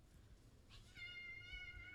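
A cat meows once, close and clear, with a drawn-out, wavering cry over a low background rumble during a World of Warcraft Black Temple raid session.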